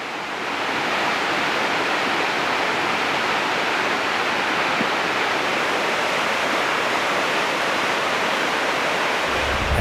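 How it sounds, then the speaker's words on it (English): Mountain torrents in Austria, swollen by heavy rain, make a continuous close roar of rushing water that stays loud and unbroken throughout. "small streams quickly swelled into raging torrents."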